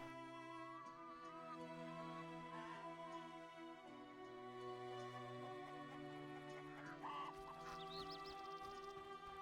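Chickens cluck in a village in The Witcher video game, scattered soft clucks and squawks over a continuous background of in-game music.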